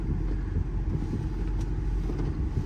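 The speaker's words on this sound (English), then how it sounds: "Truck rides nice down the road." A 2016 Ford F550 4x4 diesel truck with aggressive tires drives steadily along a road, a continuous low rumble of engine and tire noise with no break.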